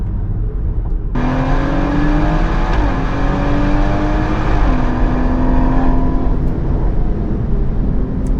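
A car lapping the Nürburgring is heard from inside, with its engine droning loudly and steadily as it holds revs and shifts pitch, and no one speaks over it.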